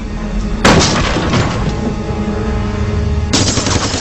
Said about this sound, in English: The gunman opens fire with an Uzi machine gun.